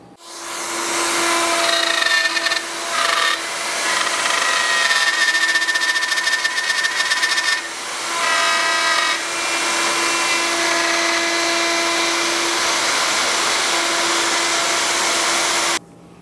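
A power router cutting mortises into wood for towel rack side slats makes a loud, continuous high-pitched whine with a few brief dips as the cut changes, heard alone.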